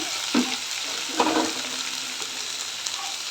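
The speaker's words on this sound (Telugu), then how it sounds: "తర్వాత సొరకాయ ఇవి బాగా వేపుకున్నాము" Bottle gourd and mixed vegetables frying in a pan for a ragi soup, giving a steady close sizzle with a few soft stirring scrapes and no talking.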